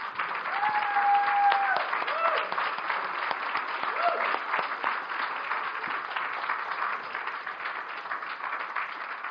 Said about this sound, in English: Let's give another round of applause to our contestants.